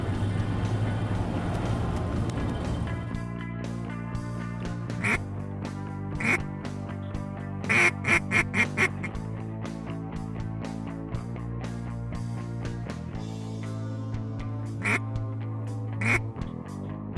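Ducks quack in a steady, rhythmic series during a Wisconsin duck and goose hunt, close and prominent over a constant low hum, with bursts of clustered quacks and no speech.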